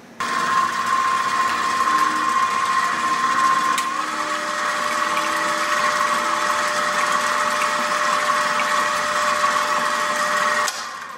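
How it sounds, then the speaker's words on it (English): A stand mixer runs steadily, kneading dinner roll dough with a constant motor whine and hum, loud and alone for about eleven seconds before it stops. "Now I'm going to put it on my mixer, and we're going to mix it up until it's well combined."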